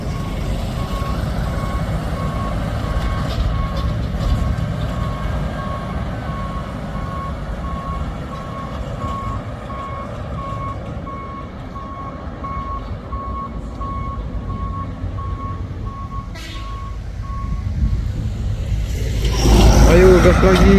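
Steady reversing beeps pulse from a loaded truck backing uphill on a slope, its engine droning low beneath, while people talk nearby and the engine surges louder near the end.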